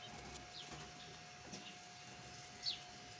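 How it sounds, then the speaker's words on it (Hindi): Salaray Teddy pigeons coo softly in a quiet setting, faint and a little distant, with a brief higher chirp near the end. "उस्ताद मियां हामिद साहब के कुछ सलारे कबूतरों का शौक करवा रहे हैं"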